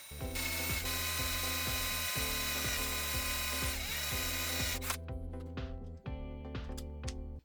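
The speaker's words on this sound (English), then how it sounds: "I drill holes for the bolts holding the woofer" A drill bores bolt holes in acrylic for a loudspeaker woofer, a loud grinding whine with a rhythmic ratcheting pulse that stops briefly and then resumes in shorter bursts.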